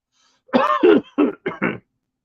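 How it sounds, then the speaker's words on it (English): A man gives a short burst of five harsh, close coughs and throat-clearing sounds in quick succession, then falls silent. "Sorry about the cough."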